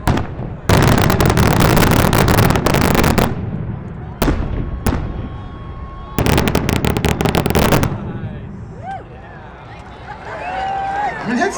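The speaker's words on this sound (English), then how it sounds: "Each break should burst into a pattern of small reports that moves from one side of the burst to the other and then back again." Multi-break cylinder firework bursting into patterns of small reports, long loud crackling rattles of rapid pops with a few single sharp bangs between them, followed by quieter background sound and faint voices at the end.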